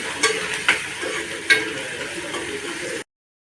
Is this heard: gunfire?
no